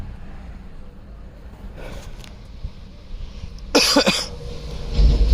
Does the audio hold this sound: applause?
no